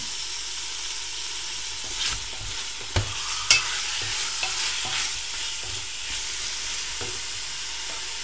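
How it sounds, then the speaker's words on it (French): Beef and onion stirred in a pressure cooker, a low, steady sizzle with a few sharp knocks and scrapes of the spoon against the pot, no speech. "On va mélanger."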